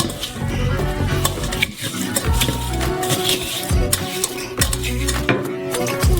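A spoon scrapes and presses watermelon pulp through a metal sieve, a wet, gritty stirring with repeated scraping strokes and faint clinks, close and steady.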